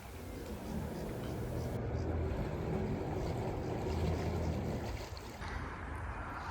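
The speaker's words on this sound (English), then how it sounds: "this is just how quiet the boat can be" A narrowboat cruising on a canal, its engine a low, steady, quiet rumble with faint water movement throughout, continuous and even, no voices.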